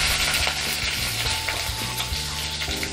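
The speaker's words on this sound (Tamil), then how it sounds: "பாதி சோம்பு மட்டும் போட்டுக்கலாம், பாதி வந்து தேங்காய் கூட அரைக்கும் போது போட்டுக்கலாம். சோம்பு போட்டோன்னே பிரிஞ்சி இலை போட்டுக்கலாம்." Fennel seeds, bay leaf and green chili fry in hot oil with a loud, dense, continuous crackling sizzle close up, with occasional stirring scrapes underneath.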